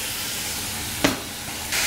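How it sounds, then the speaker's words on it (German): Food sizzles steadily in a hot pan while browning for German cabbage rolls (Kohlroulade), seasoned with salt and pepper, a constant bright hiss with a brief clatter partway through, close up and without talk. "Lassen wir das Ganze etwas anbraten."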